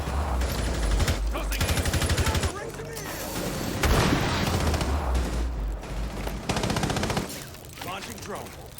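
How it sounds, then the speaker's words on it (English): Gunfire rings out in a Rainbow Six Siege match as a player lands a headshot, heard as loud, repeated bursts of rapid shots in close succession. "Bud finds the Bella peeking on garage stairs and will get the headshot, eliminating the Wamai"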